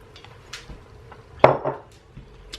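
Two medium onions drop into an Instant Pot, giving one sharp clattering thud with a short rattle after it, then a few faint clicks in a quiet kitchen.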